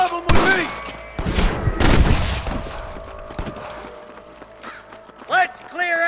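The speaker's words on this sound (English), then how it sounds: "I can hear more gunshots" Rapid bursts of gunfire in a Red Dead Redemption shootout crackle and thud, loud at first and then thinning out into scattered shots with other effects.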